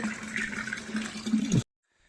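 Water runs steadily into a container with a rushing, gushing sound for about a second and a half, then stops abruptly into silence.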